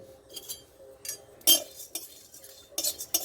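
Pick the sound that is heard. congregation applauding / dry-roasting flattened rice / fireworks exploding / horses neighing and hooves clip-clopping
dry-roasting flattened rice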